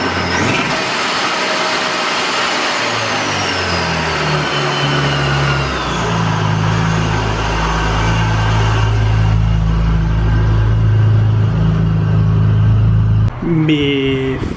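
A race car on drag radials runs loudly and steadily nearby, its engine drone holding a strong low hum over broadband noise. A voice speaks briefly at the end.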